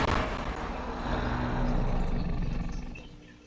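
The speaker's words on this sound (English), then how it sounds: "So here's the roar." A Tropeognathus, a flying reptile in the Roblox game Dinosaur Simulator, lets out a loud, rough roar that swells for about three seconds, then fades.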